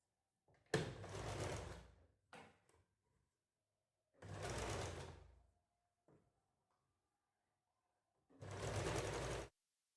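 Sewing machine stitching the lining fabric of a blouse, running in three separate bursts of steady, fast mechanical whirring, each lasting about one to two seconds, with quiet pauses between them and no talking.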